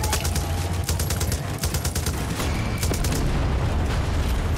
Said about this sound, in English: Do you have exploding bullets on this one?